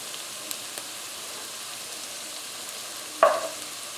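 Garlic, fennel seeds, oregano and crushed red pepper frying in a pot for a cioppino seafood stew. A soft, steady sizzle runs throughout, with a brief louder crackle near the end.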